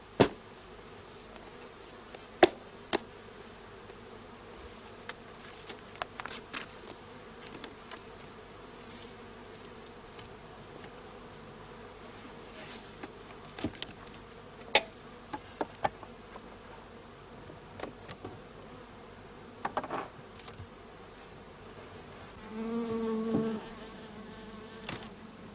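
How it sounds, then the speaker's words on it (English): Honey bees buzzing around an open hive while colonies are being united, a steady close hum with scattered sharp clicks and knocks of hive handling and a louder surge of buzzing near the end. "the bees are shaken into the empty brood chamber and the hive is closed up"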